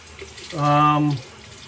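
Hot water running from a tap for shaving, filling and splashing steadily for about half a second at moderate loudness with a tonal resonance, alone.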